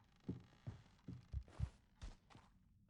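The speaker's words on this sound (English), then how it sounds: "I hear my heartbeat." Heartbeat in the horror ghost-hunting game After Midnight: six or seven heavy, low thumps in a steady, slightly quickening rhythm, close and muffled, with no talk over them.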